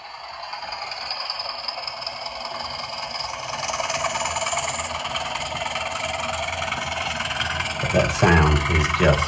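Budget DCC model railway locomotive running with its sound-module engine chugging steadily near the microphone, a low rattling idle that grows busier toward the end.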